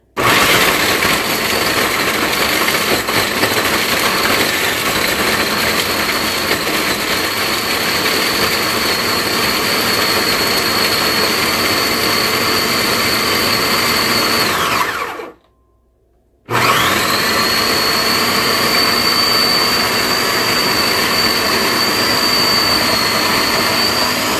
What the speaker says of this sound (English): then we're just going to blend it up in my food processor